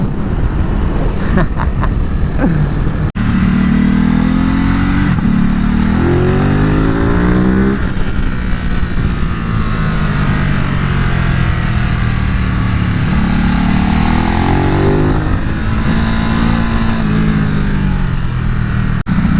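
A Ducati Supersport 950 motorcycle revs hard during a wheelie, its loud, close engine note climbing and falling through repeated throttle swells with a brief cut near the start.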